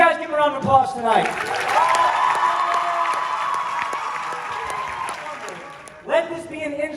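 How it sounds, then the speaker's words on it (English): Audience at a Christian concert and testimony night breaking into sustained applause and cheers for counselors, clapping swelling in for several seconds and fading, with a speaker talking before and after. "Counselors, you guys give a round of applause tonight."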